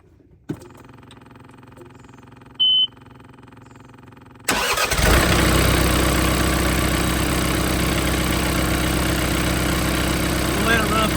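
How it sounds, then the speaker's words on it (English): A John Deere 4044M tractor after an oil change, quiet at first with a click and a short beep, then the diesel engine cranks and catches at about four seconds and settles into a loud, steady idle. "let's crank her up and let her run just a little bit."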